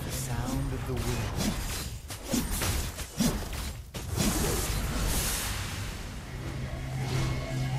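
Wind skill effect for the hero Vale in the mobile game Mobile Legends: loud, continuous broadband whooshing and rushing with a few sharp swishes and crashing bursts, layered into busy game sound.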